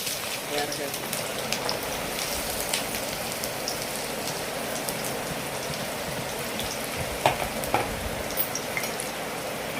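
Onions fry in a kadai with a steady crackling sizzle that resembles rain, punctuated by occasional sharper pops, while a person talks over it.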